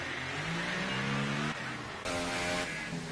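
F1 2018 racing car in the game at a wet Belgian circuit, its high engine note running steadily and shifting pitch twice as it slows into the pit lane, loud and close throughout.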